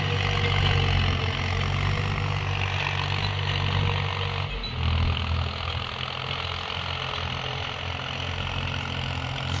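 Tractor engine idling in a farm field, a steady low diesel throb with harmonic hum that continues evenly throughout, close by and fairly loud, with a brief dip midway.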